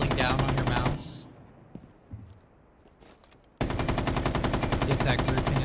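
Automatic gunfire from a weapon in Rainbow Six Siege during recoil-control practice, with loud sustained bursts at the start and again at the end and a quieter gap between them.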